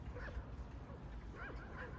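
Faint yips and whimpers from large dogs come through distant background noise, a few short cries in quick succession.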